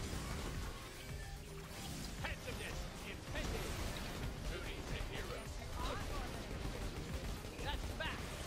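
Rifle fire in the video game Borderlands: The Pre-Sequel, rapid bursts of shots cracking repeatedly over a busy, noisy battle mix, moderately loud and dense throughout.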